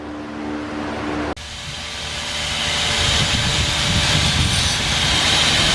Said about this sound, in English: So all you're doing is just grinding down that little rivet like I was telling you earlier.